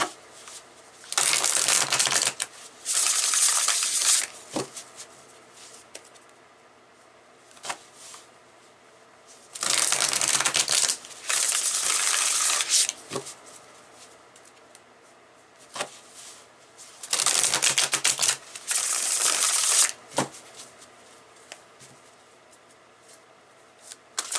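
A tarot deck is shuffled in three loud, close bouts of riffling card flutters, each followed by softer taps and slides as cards are pulled and laid down.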